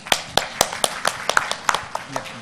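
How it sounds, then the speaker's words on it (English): Scattered, uneven claps from a small conference audience honoring the speakers at an international health conference, a dozen or so sharp hand strikes spread across a couple of seconds with light background murmur. "Once again, a huge round of applause for all of our splendid speakers."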